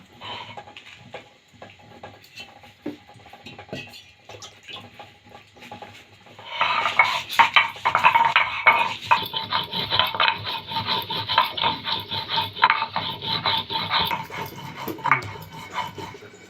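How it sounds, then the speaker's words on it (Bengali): Green chillies ground on a grinding stone, quiet scattered scrapes at first, then a long run of loud rhythmic rasping strokes of stone over stone, close up and without talk. "এবার আমি মশলাগুলোকে বেটে নিব প্রথমে লঙ্কাগুলো বেটে নিব"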